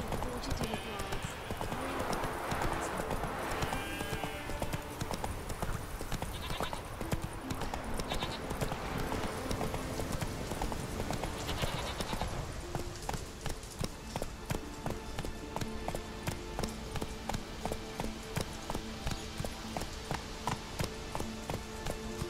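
Geralt's horse Roach in The Witcher 3 trotting with steady rhythmic hoof clip-clops, loud and near, under game dialogue voices during the first half.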